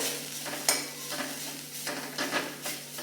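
Ground garam masala and red chili powder being stirred and dry roasted in a pan, with repeated scraping strokes of a spoon and a soft, steady sizzle close by.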